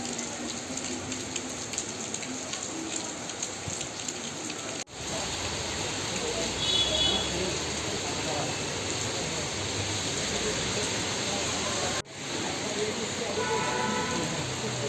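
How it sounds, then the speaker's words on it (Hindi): Rain falls steadily on surfaces at Gola market in Srinagar Garhwal, a dense, continuous hiss that grows heavier after a few seconds, with two brief cut-offs. "फिर से बारिश स्टार्ट हो गई"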